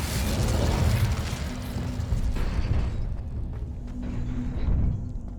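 A fire spell is cast in Hogwarts Legacy, giving a sustained roaring, crackling burst of flame for several seconds with deep rumbling underneath, then a second swell of burning noise near the end.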